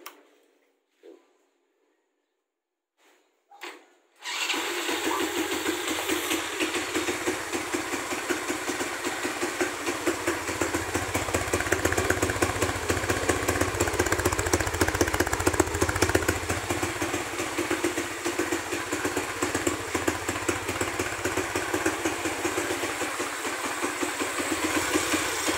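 A Honda XRM motorcycle, restarted after two years with a new battery, stays quiet for a few seconds with faint clicks, then its engine catches and settles into a steady, close, rhythmic idle.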